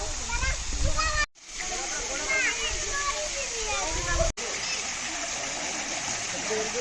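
Gundicha Ghagi waterfall in Keonjhar rushing steadily with a broad roar of falling water, close and constant, while people talk over it, including children's voices.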